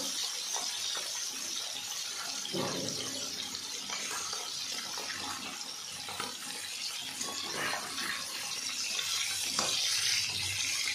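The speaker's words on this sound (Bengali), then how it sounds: "চারটে চারটে করে আমি মাছ তেলে ভেজে নেব।" Silver carp pieces fry in hot oil, a dense steady sizzle and crackle throughout with occasional louder pops, heard close up and alone.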